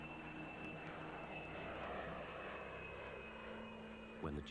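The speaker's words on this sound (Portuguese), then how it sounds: "os esperados aviões de caça chegaram" Fighter jets flying overhead produce a steady, broad engine roar that holds for several seconds at moderate distance, without talk.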